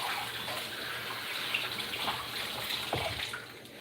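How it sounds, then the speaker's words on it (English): Cold tap water runs steadily over shrimp in a kitchen sink, a continuous close splashing rush with small spatters, heard alone without talk. "Run some cold water over it,"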